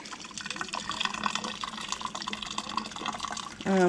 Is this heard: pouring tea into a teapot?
yes